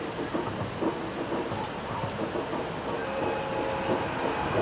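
A steady, dense rumble of a 485 series train passing through Kairakuen Station on the Joban Line, continuous and fairly loud, with rattling and hiss throughout.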